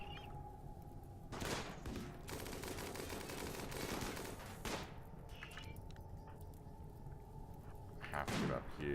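Gunfire in the RimWorld video game, with several sharp bursts of shots spread across the span, including a sustained volley in the middle, over a low background drone.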